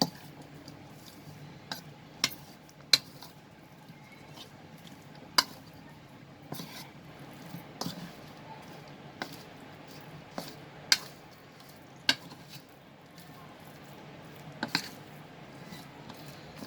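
Chicken being mixed with rosemary in a bowl: quiet, irregular clinks and taps of a utensil against the dish over a soft background, with gentle squishing between the sharper knocks.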